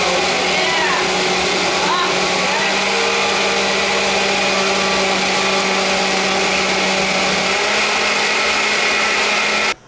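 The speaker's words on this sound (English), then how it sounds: "now that we got some pumpkin in the blender, we're gonna blend it up real good" A blender pureeing pumpkin whirs loudly and steadily for about ten seconds, a constant high-pitched motor drone that cuts off abruptly at the end.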